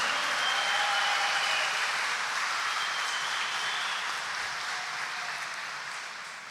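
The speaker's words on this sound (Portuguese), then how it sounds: "Brada uma salva de palmas para Ele que te perdoa." A church congregation applauds during a Sunday Mass homily, sustained broadband clapping filling the space, gradually easing toward the end, with no speech over it.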